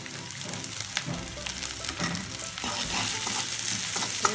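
Sliced green chillies and salt frying in a pan, giving a steady, close sizzle with stirring scrapes throughout and no talking.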